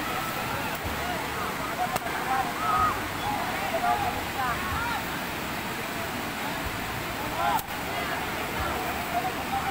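A river's strong current rushes continuously as a dense, even roar of water, with voices faintly in the background.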